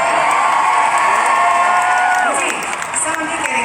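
A crowd at a concert in Munich cheers and shouts continuously in the distance, a steady roar of voices with whoops rising over it.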